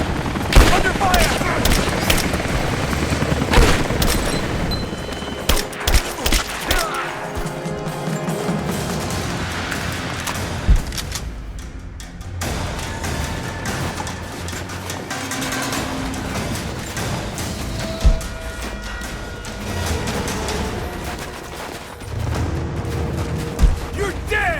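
Sustained gunfire and explosions in the Rise of the Tomb Raider game, dense overlapping rifle bursts with scattered heavy booms and crashes throughout, loud and continuous, with shouted voices mixed in.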